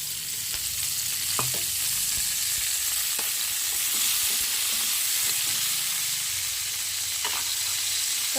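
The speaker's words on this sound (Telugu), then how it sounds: "ఉల్లిపాయలు టమాటా పచ్చిమిరపకాయ వేసుకుని కొంచెం ఆయిల్ వేసుకున్నాం ఆయిల్ వేస్తున్నాం ఫ్రెండ్స్" Onions, tomatoes and green chillies fry in oil for peanut chutney, giving a steady close sizzle broken by occasional clinks of stirring.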